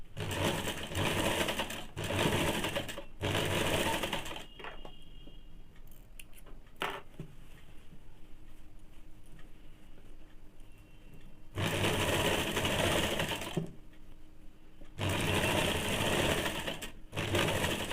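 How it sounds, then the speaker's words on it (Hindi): An electric sewing machine stitches a strip of fabric on a Bombay-cut two-piece blouse. It runs in loud, close, steady bursts of rapid needle chatter, separated by quieter pauses with small clicks and handling noises, and no one talks. "अब पट्टी को नीचे की तरफ उतार के इसमें चाप सिलाई डाल देंगे।"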